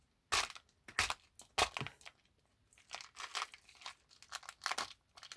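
A package is torn open by hand, with a series of sharp tearing and crunching bursts of plastic and card at an irregular rhythm, close and fairly faint, with no talk.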